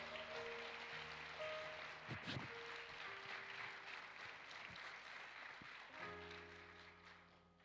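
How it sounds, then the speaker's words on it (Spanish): A church congregation at a Spanish worship service applauds in praise as a woman pastor is welcomed, a diffuse wash of clapping under sustained music or organ tones that fade out and return. "La recibimos con un fuerte aplauso de alabanza para Dios"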